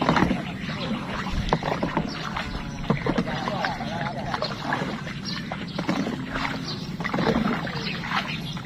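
Water sloshes and splashes around a small fishing boat (bangka) as a father and child paddle it, with irregular knocks and paddle strokes; muffled voices talk in the background.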